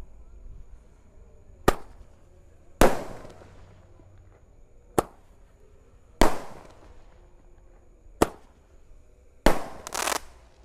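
A 0.8 inch 5-shot Roman candle firework fires a series of sharp, loud bangs spaced about a second or two apart, each with a short crackling tail, outdoors with no talking.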